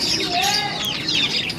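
Pigeons at a pigeon keeper's loft give short chirping and cooing calls close by, in a brief burst over quiet background noise.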